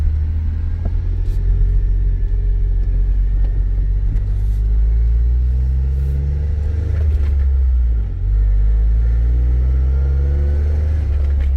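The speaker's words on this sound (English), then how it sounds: "All right, we're going on a quick test drive here." A 2007 Jeep Wrangler X with more than 162,000 miles on it is out on a test drive. A steady low engine and road rumble runs loud and unbroken from inside the cabin.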